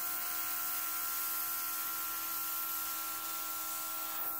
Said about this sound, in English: Blow the paint over.